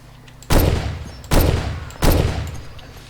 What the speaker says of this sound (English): 2 shots usually kills him with the Dragunov.